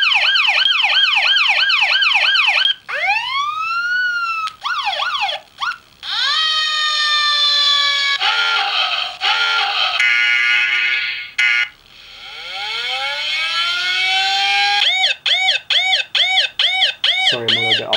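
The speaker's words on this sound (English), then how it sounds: "this is a siren." A series of electronic siren tones from a phone app on a Nokia Lumia 800 cycle rapidly: wailing, yelping and rising sweeps, switching patterns every few seconds, loud and synthetic with no one talking.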